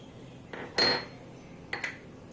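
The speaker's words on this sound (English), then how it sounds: "I'm going to crack the eggs into the bowl." Eggs cracked into a bowl for scrambled eggs: a light tap and a sharper clack against the rim, then a second pair of brief knocks, close and clear with no talking.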